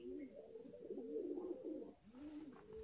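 Close, quiet cooing from a high flyer homing pigeon: a continuous throaty rolling coo, then a brief dip and another coo starting, with no voices.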